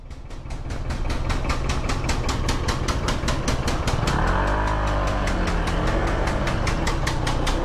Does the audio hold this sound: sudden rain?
no